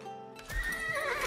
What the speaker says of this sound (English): Stable! Build horses!